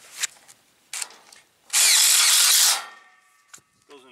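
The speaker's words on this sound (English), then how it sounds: "Let's drill one in with the drill driver." A drill driver drives a screw into wood during truss framing for a shop build, one loud, close burst of about a second after a few handling knocks, followed by brief talk.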